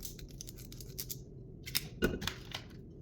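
Knife or scissors slicing through chorizo sausage in a home kitchen, a quick series of sharp, crisp snips and clicks, close and fairly quiet, with no talking.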